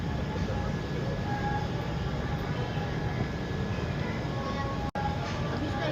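Inside a moving passenger train crossing near the Krishna Barrage, a steady, loud rolling rumble and wheel noise fills the carriage without pause, broken by one brief dropout near the end.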